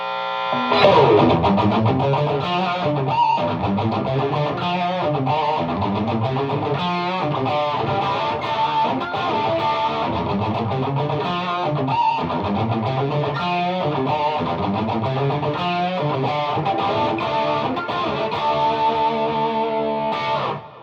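Loud, dense distorted electric guitar through a Marshall AFD100 amp with all controls at 7, playing continuously with thick chords and riffs, steady in level throughout with no talking.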